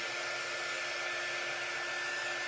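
A hair dryer blows continuously and loudly at close range, drying wet paint on a craft project, with a steady whooshing roar and a constant motor hum throughout.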